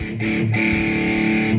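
A sustained distorted electric guitar chord from a Japanese Fender Floyd Rose Stratocaster through a POD 2.0 rings out loud and gritty, with a brief break before the fuzzy tone resumes and holds.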